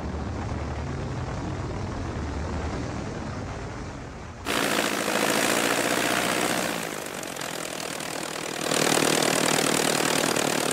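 The steady drone of a small propeller airplane in flight holds throughout. It is loud and continuous, and its tone shifts abruptly twice, as if heard from inside the cabin, with no voices.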